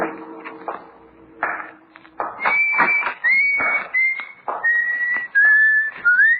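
A person whistles a cheerful tune in clear, sliding phrases, starting after a few soft taps and continuing in short bursts, close and fairly loud.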